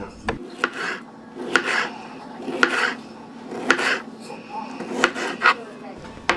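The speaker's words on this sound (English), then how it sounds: "I guess I will have to just keep cutting tomatoes" A knife works through soft, mushy tomatoes on a board, producing repeated dull cutting thuds and scrapes in an irregular rhythm, close by, with a person talking over it.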